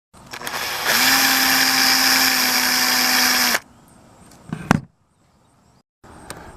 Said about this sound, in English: So I'm going to drill probably like a 1/8 or smaller hole right where the primer and the shell used to be.